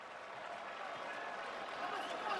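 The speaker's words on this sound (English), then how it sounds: "Crowd appreciating this strong spell from Saint-Priest." Football crowd at an AS Saint-Priest versus Valenciennes FC match applauding a strong spell of play, a steady wash of distant clapping and crowd noise that swells slightly toward the end.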